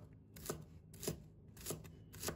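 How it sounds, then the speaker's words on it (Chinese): Knife chopping scallion whites into short pieces on a cutting board, four evenly spaced close cuts with soft scraping between them, no voices. "准备一把小葱，把葱白给切成小段"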